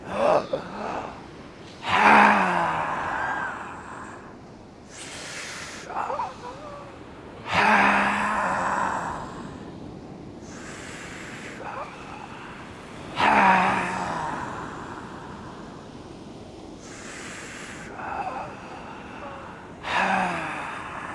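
Deep yoga breathing at a sunrise beach session, with slow, loud inhales and forceful exhales repeating roughly every few seconds, close to the mic over a soft steady background.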